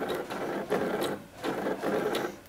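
A sewing machine stitches coat fabric at a slowed pace, giving close, rhythmic pulses of stitching about every half second, with no voices.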